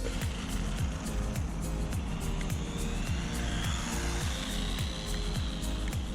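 Virhuck V04 Lightning 1/24 scale RC buggy driving, a steady high-pitched electric motor whine with a rhythmic pulsing pattern, loud and close, running continuously without talk.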